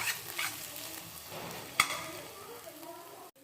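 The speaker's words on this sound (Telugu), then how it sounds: "పాలకూర ఇలా వేపుకోవాలి ఫ్రెండ్స్." Spinach being stir-fried in a pan, a close sizzle with stirring scrapes and a sharp clack of a utensil against the pan, fairly quiet and brief.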